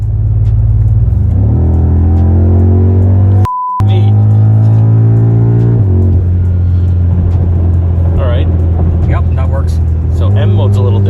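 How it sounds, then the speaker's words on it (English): A simulated car engine roars through hard acceleration from 10 to 60 mph up an on-ramp in a racing game on a motion platform, with no traction control. Loud revs climb in pitch through gear shifts, and a brief electronic beep cuts in. "A 10 to 60 mile roll up an on-ramp."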